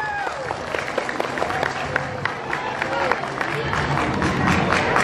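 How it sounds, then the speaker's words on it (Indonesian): An audience at a school speech contest for Santri Day breaks into steady, crowded applause and some cheering, sustained throughout with scattered voices mixed in. "Tepuk tangan yang meriah untuk Kak"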